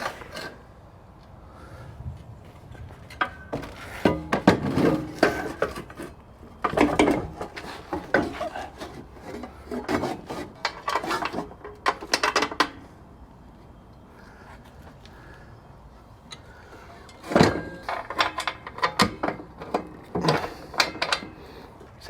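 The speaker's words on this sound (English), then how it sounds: "we can put the washers, the lock washers, and the nuts on" Metal washers, lock washers and 9/16 nuts are fitted onto mounting bolts while installing Glow Step Revolution vehicle steps, producing intermittent bursts of close clinking, rattling and scraping separated by quieter pauses.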